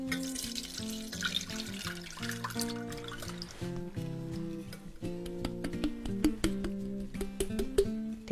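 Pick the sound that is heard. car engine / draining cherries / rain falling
draining cherries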